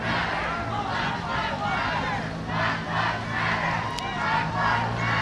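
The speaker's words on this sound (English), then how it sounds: "This seems to be a very large crowd forming here now." A very large crowd of protesters massing at Park Street in Boston during a Black Lives Matter demonstration, a dense continuous roar of voices and shouts that swells in waves and stays loud and close throughout.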